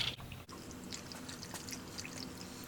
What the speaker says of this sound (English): I know it's super exciting to watch water drain